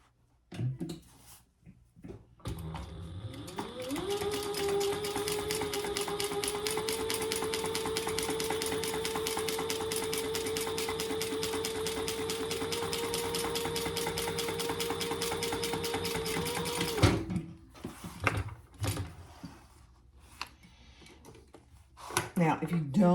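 A sewing machine runs steadily for about fifteen seconds, stitching over Peltex to close a zipper pocket on a fabric travel organizer, with a close, even whirring hum and rapid needle ticks, then stops and handling clicks follow.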